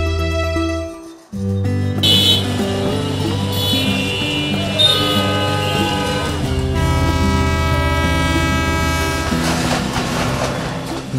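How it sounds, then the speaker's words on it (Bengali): A train rolling along the rail line through Saidpur in Bangladesh, its horn blaring in long sustained toots, heard loud and close over a steady rumble with no talking. "ভো ভো হর্ন বাজিয়ে যখন বাষ্পশকট চলে তখন কেঁপে ওঠে রেল লাইনের দুই ধারের দোকানপাটও"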